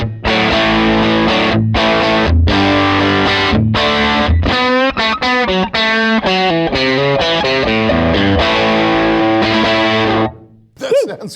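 Electric guitar through a cranked Fender tube amp with no reverb, heavily overdriven: loud crunchy chords and bending lead phrases played alone, ending in a fading sustained note.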